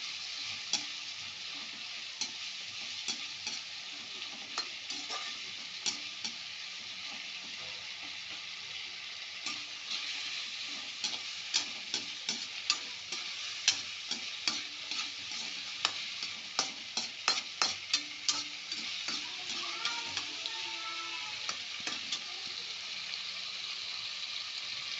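A freshly ground ginger-garlic mixture fries in a pan for macaroni while it is stirred, a steady close sizzle broken by many quick taps and scrapes of a spoon, growing busier midway.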